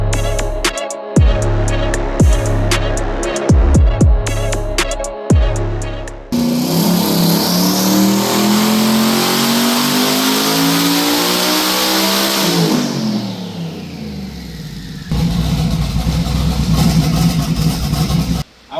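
A twin-turbo LS-powered Trans Am engine on a dyno revs loudly in sharp repeated bursts, then holds a long climbing pull through the gears before dropping back and picking up again.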